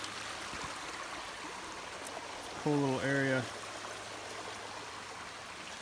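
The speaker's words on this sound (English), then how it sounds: "Streams coming from a couple of different directions, merging together." Forest streams merge from different directions in Prentice Cooper State Forest, giving a soft, steady rush of flowing water with a brief spoken remark over it.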